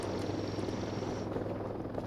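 A hovering drone in the video game Voices of the Void gives off a steady, dense whirring drone that holds at an even level and stays close for the whole stretch, with no talk over it.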